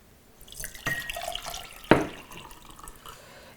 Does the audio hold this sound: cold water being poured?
yes